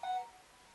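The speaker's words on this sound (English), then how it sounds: "sorry about that. That was my phone." A mobile phone gives a single short, faint electronic beep that fades quickly into quiet room hiss, with no talking.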